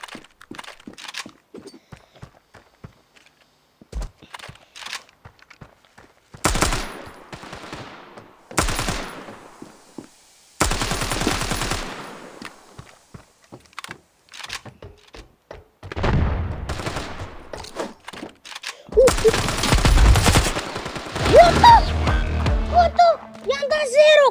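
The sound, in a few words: gunfire shooting at an opponent in a video game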